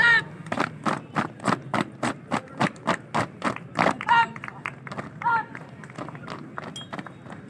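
An audience at a Republic Day school program claps for the children in a steady, rhythmic unison beat of about three claps per second. A voice calls out over it, and the clapping loosens and fades toward the end.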